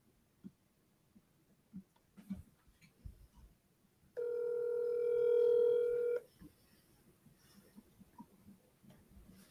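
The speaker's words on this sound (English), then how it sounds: "So let's start dialing" During a cold call to a homeowner, a phone line gives a steady tone that sounds for about two seconds. Faint clicks and light handling noise come before and after it.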